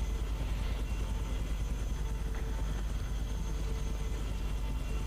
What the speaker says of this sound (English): Oh no, the helicopter's coming in.